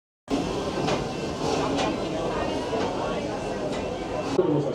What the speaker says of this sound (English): So we're gonna ride the train.